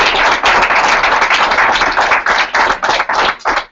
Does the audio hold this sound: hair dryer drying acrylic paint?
no